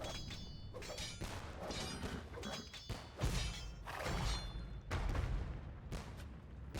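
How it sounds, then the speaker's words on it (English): Bombard cannons fire in the Age of Empires strategy game, a string of booming thuds and crashing impacts with shattering debris, irregular and overlapping, at moderate loudness with no talk. "7 bombard cannons can do a lot real quick."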